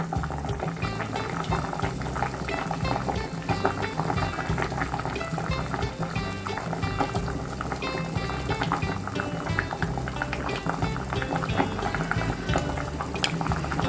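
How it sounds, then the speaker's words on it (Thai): A pot of pickled cabbage soup with pork belly boils at a steady, continuous rolling bubble, close and fairly loud, with no pauses or voices. "เราปล่อยให้หม้อมันเดือดก่อนนะจ๊ะ"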